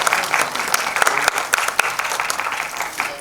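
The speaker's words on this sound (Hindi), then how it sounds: "ये एक बार जोरदार तालियां कौशल जी के लिए।" Audience at a Mumbai-style album launch event bursts into sustained applause for an artist, dense rapid clapping filling the hall with a few sharper claps standing out, steady and fairly loud throughout.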